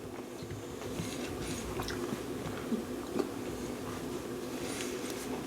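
Close, continuous chewing and biting of chicken and broccoli, a steady moist mastication with a few louder crunchy bites over faint room noise.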